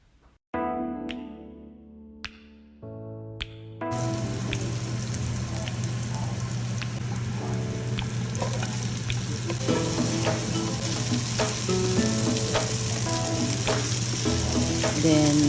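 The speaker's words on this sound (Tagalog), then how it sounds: "After frying, I use the excess oil to saute the" Garlic and onion are sautéed in leftover oil from frying rainbow trout. A few sharp clinks ring out, then a loud, steady sizzle bursts in and continues with crackles and pops.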